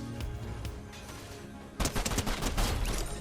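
Video game pistol fire during play with a budget controller, a rapid string of sharp shots starting midway and continuing to the end, preceded by quieter game ambience.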